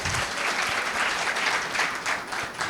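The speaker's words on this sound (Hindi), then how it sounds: "तो आप अपने लिए जोरदार ताली बजा देंगे।" A large audience applauding at a Navratri special gathering in a Brahma Kumaris meditation hall in Bhusawal, loud close clapping that swells and pulses without a break through the short stretch.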